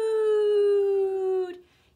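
A voice imitates a train whistle with one long, steady, tonal "toooot" held for about a second and a half, close and clear, then trailing off.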